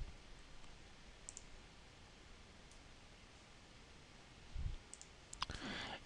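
Computer mouse clicks while working in software, a few faint, sparse clicks spread over several seconds against a quiet background hiss.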